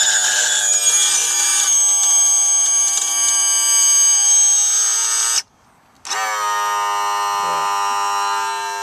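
Outboard motor's electric power trim whining steadily as the motor tilts up, a loud buzzing hum that stops briefly and then resumes, no talking.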